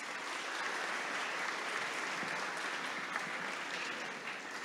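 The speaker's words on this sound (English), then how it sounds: "Let us all give him a round of applause." Steady, dense applause from an audience at a Giacomo Puccini centennial celebration, sustained at an even level throughout with no voices standing out.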